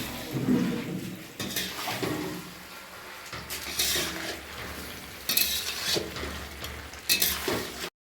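Doi potol curry cooking in a pan, continuous frying sizzle with repeated scraping stirs of a spoon against metal, close and fairly loud, no voices.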